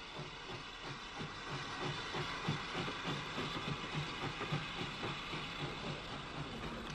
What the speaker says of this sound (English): Number 11 Erin, the last survivor of a class of four 464s built by Nasmyth Wilson in 1904, leaves Stranorlar with the goods for Strabane